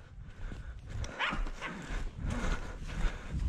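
Hunting dogs bark during a wild boar drive, their yelps and barks scattered and somewhat distant over steady outdoor background noise, coming in irregular bursts with no clear talking.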